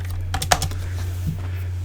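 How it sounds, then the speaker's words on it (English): Python code being typed on a computer keyboard, a short burst of close, crisp key clicks early on, then a few lighter taps over a steady low electrical hum. "we'll practice typing it in"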